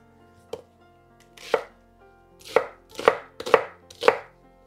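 Knife chopping vegetables on a board for carrot soup: a few scattered cuts, then a steady run of firm, close chops with crisp attacks, no voices.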